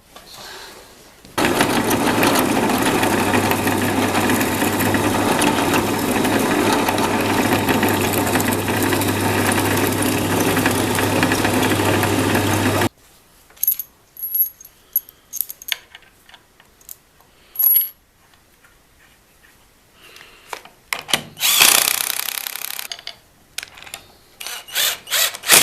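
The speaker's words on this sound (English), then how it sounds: "Now I can see where to drill." A power drill bores into a wooden block being fitted as a woodworking vise, running steadily for about eleven seconds, then stopping; afterward come scattered clicks, taps and handling knocks, with another short whirring burst near the end.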